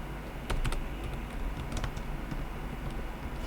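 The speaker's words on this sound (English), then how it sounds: "So you type" Steady computer keyboard typing, with close, rapid clicks running continuously and a few sharper keystrokes standing out near the start.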